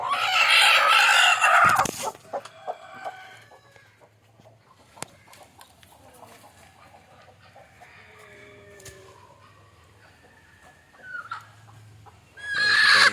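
Country chickens cluck softly through the middle while a rooster crows loudly at the start and again at the end, close by, with scattered sharp knocks in between.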